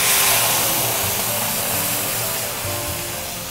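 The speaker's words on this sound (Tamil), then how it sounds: "ஸோ இந்த பேஸ்ட் போட போகிறோம்" Onion and tomato paste hitting hot oil for a cauliflower kosthu, a steady broadband sizzle that stays loud throughout and fades slightly toward the end, with no clear talk over it.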